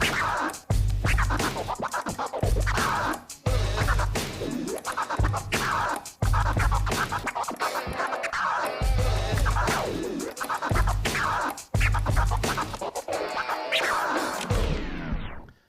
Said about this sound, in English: So here it is, transform scratch with our crossfader.